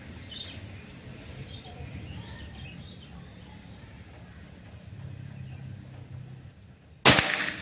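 A single sharp crack from a Bocap Pajero Gun Gen 6 air rifle comes near the end, after several seconds of quiet outdoor ambience with faint birdsong.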